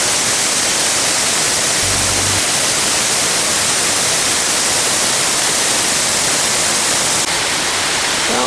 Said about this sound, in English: It's like obviously wet over here because there's a big waterfall